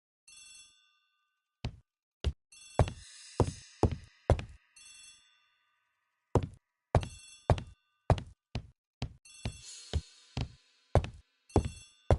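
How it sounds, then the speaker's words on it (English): Telephone in a hallway ringing in repeated bursts of sharp bell trills separated by brief pauses, crisp and fairly close, with no talking. "The telephone in the hall is ringing."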